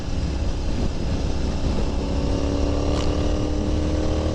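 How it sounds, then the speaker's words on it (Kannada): A Royal Enfield Interceptor 650 motorcycle's exhaust drones in a steady, even rumble close by, continuous with no revving or breaks. "ಸೌಂಡ್ ನೋಡಿ ಎಷ್ಟು ಚೆನ್ನಾಗಿದೆ ಎಕ್ಸಾಸ್ಟಿಂದು ತುಂಬ ಚೆನ್ನಾಗಿದೆ"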